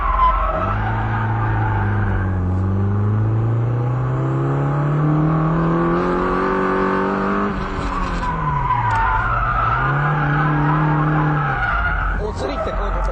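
A car drifting under e-brake, skidding and sliding out of control as the driver countersteers too late, with sustained loud tire squeal and a rising, falling engine note running unbroken from start to finish.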